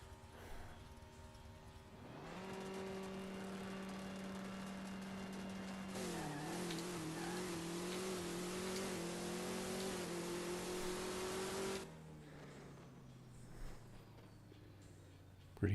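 A drag car's engine in the No Limit 2 racing game revs up to a loud, steady drone, jumps higher in pitch mid-run and holds, then drops back to a lower idle hum near the end.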